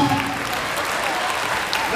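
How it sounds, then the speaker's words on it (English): A school assembly audience at a middle school claps together, a steady dense patter of hands held close and fairly loud for the whole stretch, with no voice on top. "clap your hands"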